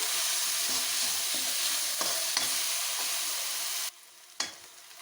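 Onions frying and being stirred in a hot pan for a Punjabi radish pod and potato dish, a loud close sizzle that suddenly drops to a quieter crackle near the end.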